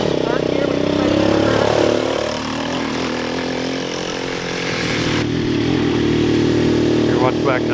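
Engine of a cheap Amazon four-wheeler accelerating hard in gear, a loud, steady buzzing drone close by that dips briefly as it shifts, with wind noise and a voice talking over it.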